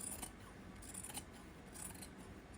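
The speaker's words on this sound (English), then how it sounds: "just trim around with scissors" Scissors snip repeatedly in a few crisp cuts, trimming quilt fabric over a rough, rustling fabric background, quiet and close.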